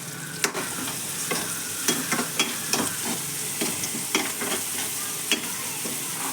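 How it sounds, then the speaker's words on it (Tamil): Tomatoes are sautéed in a pan while making a Tamil siru keerai kootu. There is a soft, steady sizzle with repeated scraping stir clicks from the spatula at irregular intervals, and no talk. "தக்காளி சேர்த்துட்டு நல்லா வந்து வதக்கி விடுங்க."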